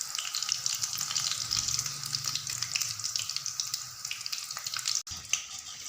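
Macaroni rolls frying in hot ghee, with a close, steady crackling sizzle and a brief clatter near the end.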